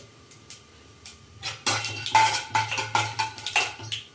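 Onions dropped into hot oil in a pan for frying tondekayi palya, starting with a few light taps, then a rising sizzle with repeated rhythmic scraping and clinks of a spoon stirring, no voices.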